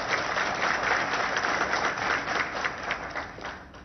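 A crowd at a political speech in India breaks into dense, loud applause that holds steady for about four seconds before easing slightly at the end.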